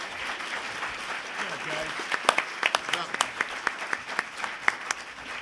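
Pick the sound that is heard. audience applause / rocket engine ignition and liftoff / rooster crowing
audience applause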